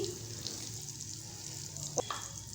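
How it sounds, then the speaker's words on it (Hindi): Semolina roasting in melted ghee over a low flame gives a soft, steady sizzle, with a few faint scrapes and clinks partway through. "अब हम इसको भूनेंगे और इसको हम देखिए लो फ्लेम पर भून रहे हैं"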